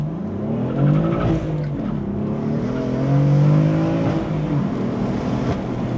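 A tuned BMW M4 F82 launching hard with its wheels breaking loose, the engine revving loudly and rising through two surging pulls with tire squeal, close and alone.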